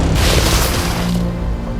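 A loud, rumbling dynamite blast fills the clip, a deep booming roar that slowly fades.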